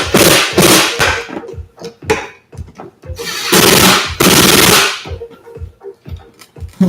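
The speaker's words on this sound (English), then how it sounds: "It sounds like the drill battery is almost dead" A cordless torque drill with a nearly dead battery drives screws into a skateboard, making several close, loud bursts of strained whirring and clattering separated by short pauses.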